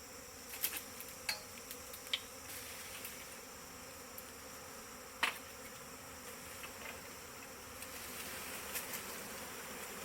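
A swarm of bees gives off a steady, faint buzzing drone outdoors with scattered ticks and clicks, and no voices over it.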